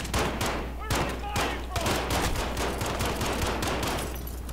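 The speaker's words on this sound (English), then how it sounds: "I got gunfire second level." Rapid bursts of gunfire in Call of Duty: Modern Warfare's campaign crackle continuously, with repeated sharp shots and automatic volleys over a steady background hum.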